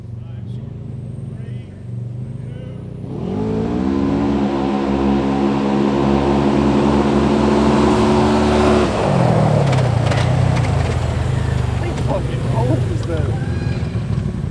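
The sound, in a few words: cars racing, engines revving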